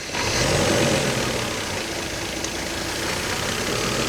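A Mercedes coupe engine idles with an idle control valve fault, giving a steady, close, slightly rough mechanical hum that holds throughout with no talking.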